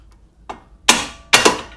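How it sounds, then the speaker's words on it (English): A hammer strikes a part while pulling the engine on an R53 MINI Cooper S, a light tap followed by two loud, sharp metallic blows close by, each ringing briefly before fading. "And if we're lucky, good hammer swing and that'll come right out."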